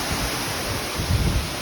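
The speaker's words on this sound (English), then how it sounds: "But there's the other waterfalls right behind me." Waterfalls pour behind slick rocks, a steady broadband rush of falling water that holds throughout, with a slight low surge near the end and no voices.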